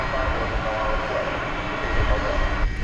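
Engines of an American Airlines Boeing 777 wide-body jet bound for London Heathrow give a steady, dense roar close by, with speech faintly over it.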